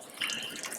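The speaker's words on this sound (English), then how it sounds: "we're gonna add that hot water, hot liquid to our gelatin mixture" Hot liquid poured into a gelatin mixture in a kitchen, a steady close watery pour that runs for the whole short stretch without talk.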